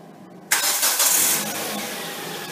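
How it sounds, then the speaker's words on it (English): A 2007-2010 Hyundai Elantra engine, triggered by remote start, cranks and catches abruptly after a quiet moment, then settles into a steady, fairly loud idle. "I'm going to lock the doors three times. This is going to trigger remote starting."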